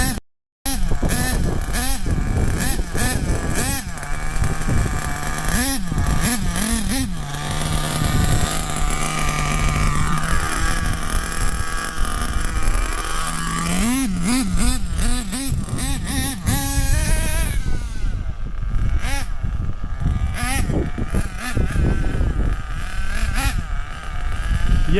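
A nitro RC car engine revs loudly and continuously close by, its pitch rising and falling with throttle blips and sustained runs, with a brief silence at the very start.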